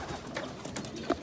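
Young pigeons of the 2018 season in a loft, soft cooing calls heard close by in short bursts, with light rustling around them.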